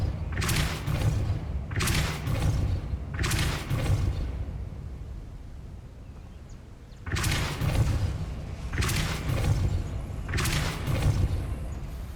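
Depulso force spell cast repeatedly in Hogwarts Legacy, a series of heavy booming thuds in uneven bursts with a quieter gap in the middle.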